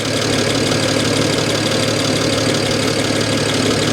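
A worn-out car engine idles steadily and loudly up close, a faint rattle under the hood folded into its constant, even drone with no voices.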